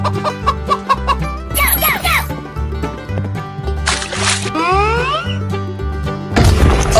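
A chicken clucks in a 3D animal slide game, a run of clucks and squawks over looping music, broken by smacking and crashing impacts and a final loud burst.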